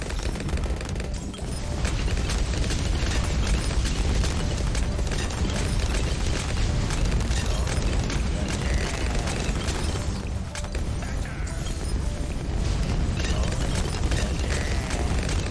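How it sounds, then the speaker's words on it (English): Striker Jones firing nonstop during a Bloons TD 6 game, heard as a dense, loud, continuous barrage of overlapping explosive booms and pops with busy game effects and no talking, layered without pause for the full stretch. "Sure seems like Striker Jones shooting a lot now, right?"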